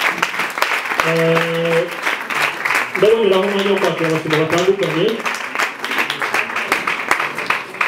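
A church congregation applauds at a gathering to pray for church leaders, a steady wash of clapping that runs the whole time beneath someone speaking over it.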